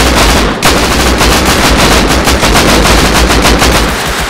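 Rapid, dense gunfire from the video game Rust during a base raid, a loud continuous burst of automatic shots with steady rhythm and no talking over it.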